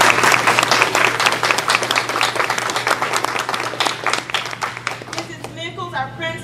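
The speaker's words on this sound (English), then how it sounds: "Let's give them another round of applause." An audience at a student award ceremony applauds in a dense, loud burst of clapping that slowly thins and fades toward the end, with a steady low hum underneath.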